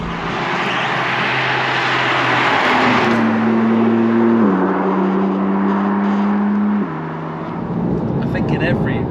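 A BMW M2 (G87) sports car engine roars steadily and loudly, its pitch stepping up through gears with a deep, growling tone.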